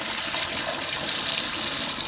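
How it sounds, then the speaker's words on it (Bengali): Tap water gushes steadily while a kitchen ladle is rinsed under it at a sink, a loud, close, continuous splashing rush with no voices. "দেখো আমি একটু হাতাটা ধুয়ে নিলাম"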